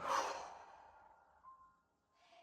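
A deep exhale during a breathing exercise: one loud breathy release at the start that tapers off slowly, alone and close, with a faint softer breath near the end.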